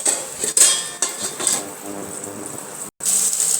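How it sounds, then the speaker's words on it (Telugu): A lid set onto a cooking pan of potato and tomato fry, giving a couple of sharp metallic clanks over a steady sizzle-like hiss, with brief clatter and a short silent gap before the hiss resumes. "ఇప్పుడు మూత పెట్టుకుంటాం."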